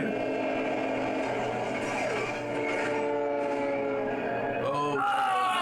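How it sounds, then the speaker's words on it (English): A train passes through a tunnel in a Mandalorian episode, a steady rumbling roll with sustained tonal hum lasting throughout, rising toward a louder burst near the end. "It looks like it. And here comes a train."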